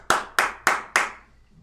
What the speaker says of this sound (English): you hear the clap